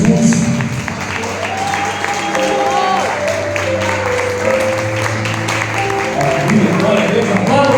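A church congregation claps loudly and steadily through a Brazilian evangelical deliverance and worship service, with a preacher's voice and tonal sounds running over the dense applause.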